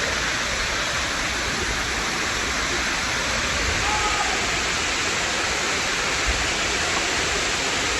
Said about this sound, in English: So I'm making my way over